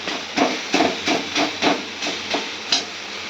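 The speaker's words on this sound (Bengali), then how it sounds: "আর কতটা সুন্দর করে ভাজছি দেখো, একটু লেগে যাচ্ছে না।" Food sizzles in a hot wok in a home kitchen, a steady hiss rising in short bursts roughly every half second as it is stirred and tossed, close and fairly loud with no talking.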